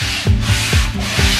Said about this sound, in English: Here's Dad's handy trick with the sandpaper for shaping that mast.